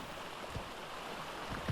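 Steady rushing of a waterfall in the video game ARK: Survival Evolved, a constant dense wash of falling water close by, broken by a couple of faint low thumps.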